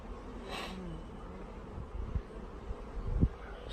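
Honey bees from a mail-order package, some dead after shipping, give off a faint, low buzzing hum close by, with brief rustles and a couple of soft thumps from handling.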